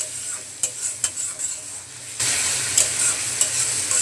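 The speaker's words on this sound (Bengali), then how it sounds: "এখন মশলাটাকে ভালোভাবে কষিয়ে নেব।" Masala with chili powder and coriander powder is stirred and sautéed in a pan, with a few scrapes followed by a steady close sizzle of frying spices.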